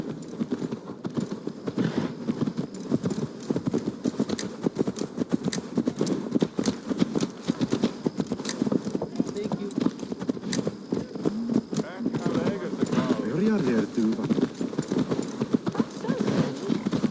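Horse hooves clip-clop steadily in Assassin's Creed Valhalla, a brisk continuous rhythm of close hoofbeats with a snort or whinny, while characters talk over the riding.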